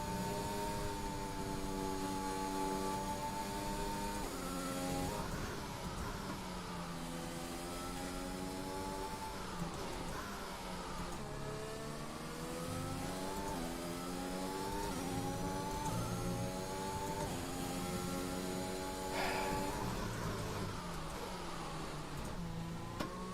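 High-revving Formula 1 race car engine from the F1 2021 video game during the Chinese Grand Prix, a steady loud whine rising and falling through gear shifts for the whole stretch, with no talk over it.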